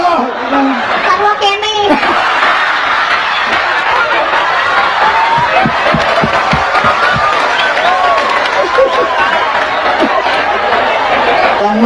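An audience at a Sundanese comedic religious lecture claps, cheers and chatters in a dense, continuous wash of crowd noise with laughter and voices mixed throughout.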